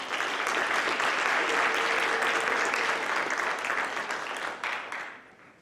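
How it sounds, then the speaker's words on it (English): A room full of people at a scholarship and junior high/high school awards program claps steadily and warmly for several seconds, the applause thinning and fading out at the end. "Let's give Jason a round of applause."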